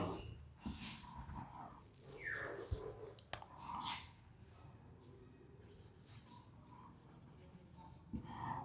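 A pen or chalk writes English words during a ninth- and tenth-grade English lesson. It makes soft, close scratching strokes in short bursts with brief taps between them, and faint murmuring is heard at points.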